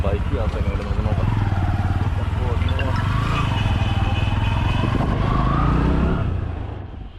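Motorcycle taxi ride through Cairo streets toward the Giza pyramids, a steady close engine drone with road and traffic noise and a voice talking over it throughout.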